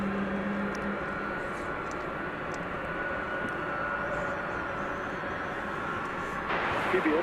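At DFW Airport at night, a jet airliner's engines make a steady broad roar at middle distance. The roar swells slightly near the end, with a faint tone underneath.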